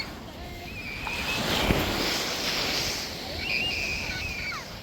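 Beach waves surge and wash in a continuous broadband roar with some wind noise on the microphone, fairly loud and steady, with faint distant chatter in the background.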